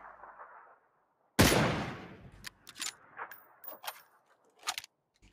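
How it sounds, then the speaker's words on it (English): Gunfire in a shooting video game: one loud, sharp blast breaks a near-silence, then a scatter of quicker cracks and clanks follows at irregular intervals, with no one talking. "I'm unsure where I'm getting shot from."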